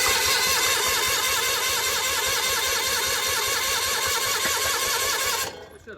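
A skid loader with its throttle stuck at full and a frozen choke runs at a steady, loud, buzzing high pitch for over five seconds, then cuts out abruptly near the end, leaving near silence.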